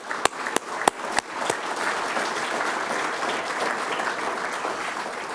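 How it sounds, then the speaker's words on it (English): At a fire department promotion and achievement ceremony, a few sharp early claps quickly swell into sustained, dense applause from a seated audience honoring firefighters' families, steady and fairly close. "So I'd like to give a round of applause to the families that are here and for putting up with our members."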